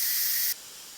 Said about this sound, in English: I'm going to turn this so it doesn't spray the top of my cabinets. And release the steam